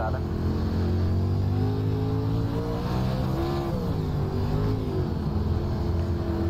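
A World of Outlaws late model race car engine in the iRacing sim, running on the dirt at Lanier Speedway, drones loudly and steadily with a rising and falling pitch as the throttle changes, with a voice talking over it.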